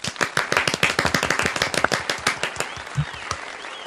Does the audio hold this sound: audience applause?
yes